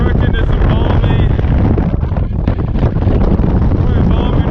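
Loud, steady wind batters the mic on the exposed upper slopes of Mount Adams by Pikers Peak, a continuous rough roar that fills the whole moment.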